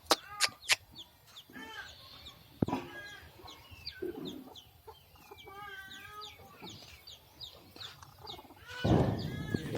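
Chickens clucking and crowing on a home farm, several birds calling near and far in short bursts, with a rooster crow and scattered background rustling.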